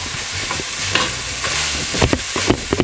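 Meat sauce seasoned with Mrs. Dash sizzles in a pan while a utensil stirs and scrapes through it in several short, uneven strokes, close and fairly loud over a constant frying hiss.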